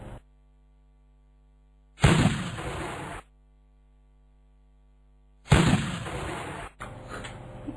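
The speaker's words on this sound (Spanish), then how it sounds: "Sonó un cañonazo." A sound-effect cannon shot in a radio drama about pirates, heard as two loud booming blasts a few seconds apart, each trailing off abruptly over a low background hum.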